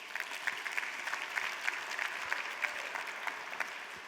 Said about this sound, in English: Everybody give these guys a round of applause.